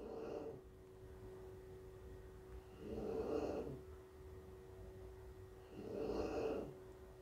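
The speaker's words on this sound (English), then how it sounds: "If you hear some snoring" A dog snores softly indoors, three slow breathy snorts spaced a few seconds apart over a faint steady hum.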